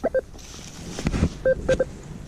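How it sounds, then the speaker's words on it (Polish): Metal detector beeping on its first target signal while searching in the field: short tonal beeps, first a pair and then a quick cluster, with a low thump of handling in between. "ten pierwszy sygnał."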